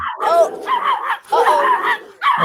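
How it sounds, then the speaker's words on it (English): A dog gives a run of excited, close barks and yips mixed with whimpering. They come in three loud bursts that overlap the talk. "Was there another dog there?"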